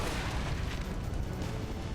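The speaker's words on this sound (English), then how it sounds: "Oh shit, it's gonna explode." Explosion in the video game Alpha Protocol: a dense, continuous low rumbling roar with crackling debris that sustains loudly for the full two seconds without fading.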